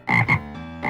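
A frog gives two quick, loud close-up croaks, a short pause, then starts a third.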